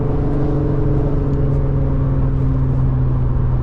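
A tuned Infiniti Q50 engine drones loud and steady from close by, a thick low rumble with a constant pitch and no clear revving peaks, and no voices.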